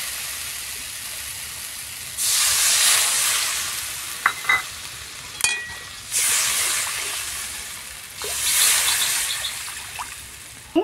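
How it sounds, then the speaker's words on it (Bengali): Water poured into a pan of cooked-down spices for a Bengali boal fish curry erupts in three loud bursts of hissing sizzle, separated by quieter gaps with faint scraping clicks. "এখন আমি জল দিয়ে দিই।"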